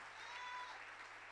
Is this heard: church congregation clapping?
yes